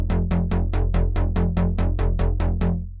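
Repeated synth or bass notes pass through an Ableton Live Saturator adding subtle tape-style grit and distortion, about eleven evenly spaced plucks with fast decays over a steady low tone, loud and alone.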